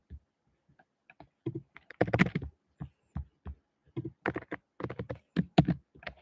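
Computer keyboard typing while writing React JS code: soft clicks and clacks arrive in uneven bursts, with a faster, denser flurry in the middle, close and quiet with no talking.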